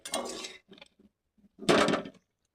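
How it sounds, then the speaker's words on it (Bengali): Metal lid lifted off a cooking pot holding a simmering sabzi. Two loud clanging scrapes are separated by a few faint light clinks, all close and with no talking. "বন্ধুরা ঢাকনাটা খুলে নেব।"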